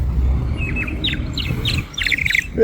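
A clay water whistle filled with water, blown by a street seller in Buenos Aires, gives warbling, bird-like chirps in short bursts over low street noise.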